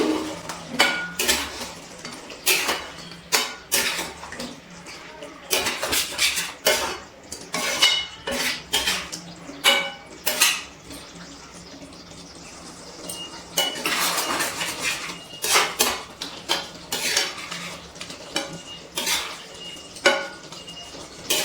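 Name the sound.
stirring kadai chicken with ginger in a pan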